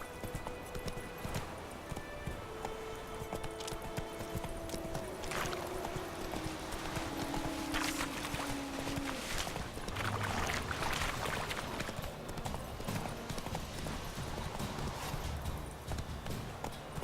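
Rhythmic clip-clop of the horse Roach's hooves galloping across ground in The Witcher 3, continuous and fairly loud alongside game ambience, without talk.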